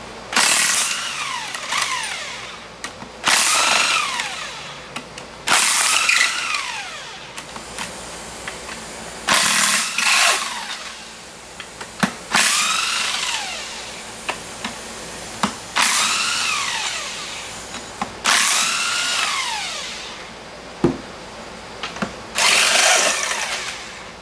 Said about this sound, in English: We're going to go ahead and remove all the 14mm bolts right here